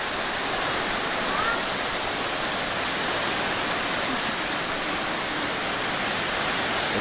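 A flowing stream at a roadside picnic spot, a steady broadband rush of water filling the whole stretch evenly, close and continuous, with no talk over it.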